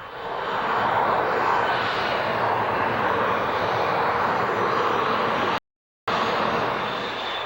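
A Boeing 727-200 Advanced trijet's engines roar as a steady, loud broadband drone, broken once by a brief cut to silence before the roar resumes.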